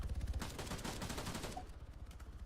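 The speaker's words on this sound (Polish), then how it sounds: "Ogień automatyczny." A fast, steady stream of automatic gunfire in Arma 3 rattles for over a second, then fades into sparser, quieter shots and background din.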